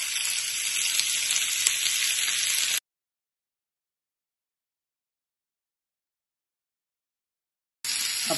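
Green chillies fry in hot oil with a loud, close, hissing sizzle. The sound cuts to silence for about five seconds, then the sizzling returns.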